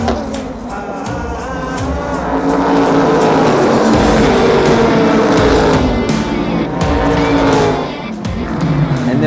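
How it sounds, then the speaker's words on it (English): Super GT race cars roll toward the start at Okayama circuit, a loud, close mass of engines roaring and rising in pitch together, with overlapping revs swelling and easing over the track. "Super GT starts their races with rolling starts, similar to a lot of other GT series."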